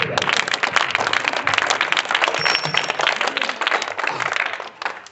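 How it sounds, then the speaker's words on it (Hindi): A classroom of pupils in a maths lesson breaks into loud, dense clapping that holds steady for several seconds, then thins out and fades near the end. "बहुत अच्छा, ताली बजाओ।"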